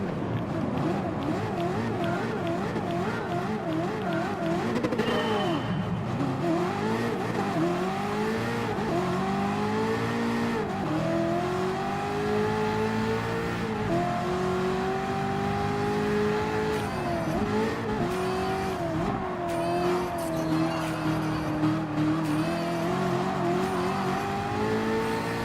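Race cars accelerating in a Gran Turismo Sport online drag race at Blue Moon Bay, engines revving loudly and steadily with rising and falling pitch through gear changes for the whole stretch.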